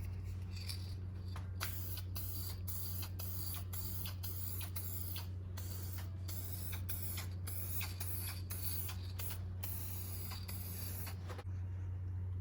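Short repeated hisses of a spray can laying a thin coat of purple paint on Cadillac Escalade LQ9 6-litre engine parts, bursts coming in quick irregular succession over a steady low hum.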